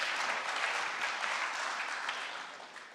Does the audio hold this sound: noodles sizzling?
no